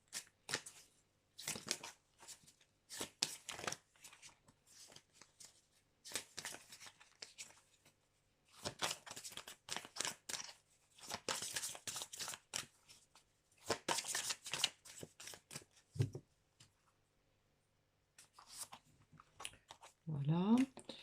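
Oracle cards shuffled close by in a quiet room, a long series of soft riffling and slapping bursts in uneven clusters with short gaps, ending in a few louder handling sounds, no talking.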